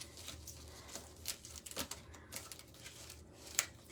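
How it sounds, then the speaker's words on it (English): Hebrew archetype cards shuffled by hand indoors, a faint run of soft papery riffles and taps at close range with quiet gaps between them. "So we're just going to shuffle them up."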